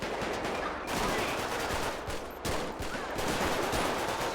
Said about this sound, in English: We have shots fired at our destination right now